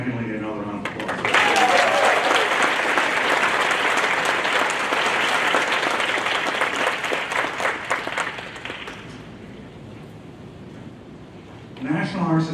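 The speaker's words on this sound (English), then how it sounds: "Let's give McKinley another round of applause." A graduation crowd applauds McKinley at a high school ceremony, a broad roar of clapping that swells, holds for several seconds, then fades, with a voice speaking briefly at the start and end.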